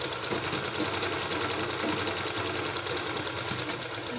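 A sewing machine runs steadily while stitching tucks into fabric, its needle clattering in a fast, even mechanical rhythm with a constant motor hum, close and alone without talk.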